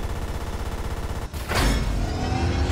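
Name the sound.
gunshot fired in a VR video game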